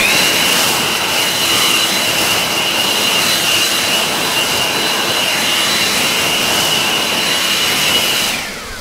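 An EGO Power+ LB6504 56-volt cordless leaf blower runs steadily outdoors in a yard, blowing leaves with a loud, continuous high-pitched whine and rushing air that fades out at the end.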